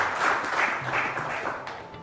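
Round of applause from a quiz-show audience at a school challenge between Tororo Girls and St Henry's College, a steady wash of clapping over two seconds, moderately loud and fairly even, with a faint voice murmuring beneath.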